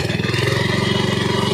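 Engine of a South Korean-made ASIA hand tractor running close by, a loud, steady, rapidly pulsing chug with even rhythm throughout.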